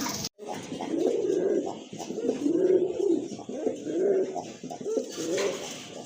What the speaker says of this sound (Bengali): আরেক জোড়া কবুতর শার্টিন কবুতর খুবই সুন্দর